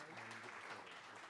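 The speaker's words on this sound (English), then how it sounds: "So give them another round of applause." Applause from a group at a school district board meeting, steady and dense throughout, with a faint voice underneath.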